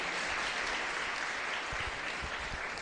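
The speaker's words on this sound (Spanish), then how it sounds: "un fuerte aplauso para todos ustedes" A congregation applauds at a Catholic Mass for San Isidro Labrador, giving a dense, even round of clapping that fills the whole span at moderate volume, with a few low thumps underneath.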